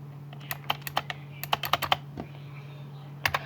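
Key presses on a computer keyboard buying weapons in Counter-Strike 1.6, a string of crisp, close clicks in quick irregular bursts with a steady low hum behind them.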